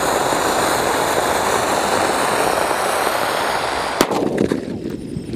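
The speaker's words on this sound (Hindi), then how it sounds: "यार सबसे तेज साउंड सुनने को मिला हमें सनशाइन की गंगा जमुना के अंदर।" A Sunshine Ganga Jamuna Diwali firecracker is lit and gives a loud, continuous hissing spray for about four seconds. A sharp bang follows, then a few crackling pops as it dies down.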